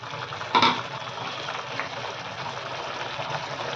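Half a cup of water is poured over mustard greens in a bowl to wash them. A short splash comes early, followed by soft, continuous sloshing close by.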